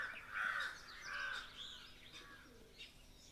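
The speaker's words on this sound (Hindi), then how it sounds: "सिर्फ चिड़ियों की चहचहाहट ही सुनाई दे रही है।" Birds call at sunrise around 6:30 in the morning outdoors, a few faint harsh crow-like caws and scattered chirps, distant and quiet with no talking.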